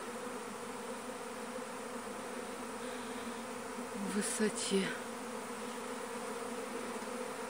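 Honeybees swarming out of a hive in Siberia under overcast skies, a dense continuous buzzing hum, with a few louder passes close by and a brief voice partway through.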